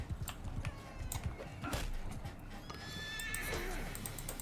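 A horse whinnies in a long, shrill neigh over busy Mount & Blade II: Bannerlord game audio with clattering hoofbeats and steady background noise.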